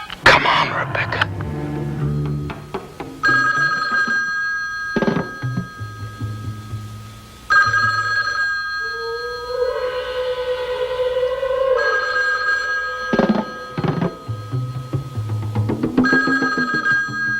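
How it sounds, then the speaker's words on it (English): An old telephone bell in a 1971 comedy-mystery film rings in several long bursts separated by pauses, loud and near, while people talk in between rings. "That's the phone."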